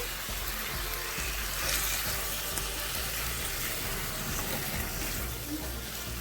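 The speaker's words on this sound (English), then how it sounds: "Give this a nice stir. Ensure everything is incorporated here." Ackee and saltfish being stirred in a cooking pot, a dense continuous sizzle and wet hiss with faint scraping throughout, fairly close and steady.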